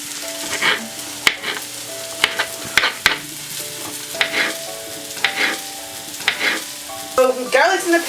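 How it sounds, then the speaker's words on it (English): Garlic and onions fry in a pan, a soft sizzle broken by repeated close clacks and scrapes of a utensil stirring, with quiet music beneath. "So garlic's in the pan. Give it a stir with your onions."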